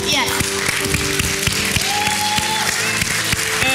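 A church congregation applauding to acclaim God, with dense steady clapping filling the room loudly throughout, tonal music or singing running underneath the crowd's applause.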